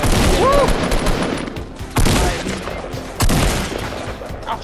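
Loud gunfire in the Fortnite video game: rapid overlapping shots and a dense fusillade throughout, with two stronger blasts partway through, heard up close.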